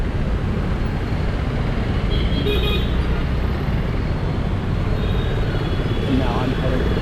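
Constant road traffic roars along a Bangalore street, with a few faint horn toots rising briefly above the engine noise.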